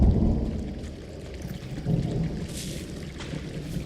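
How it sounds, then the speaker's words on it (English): Low thunder rumbles through a Firewatch video game scene, a deep rolling swell with patters of rain on top, moderately loud and steady with no talking. "Hey, I heard some thunder."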